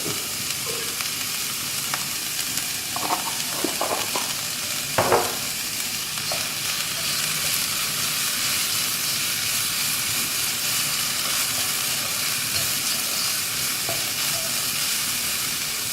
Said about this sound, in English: It's useful to have a big wok like this, so that we can stir fry easily and not have everything go everywhere.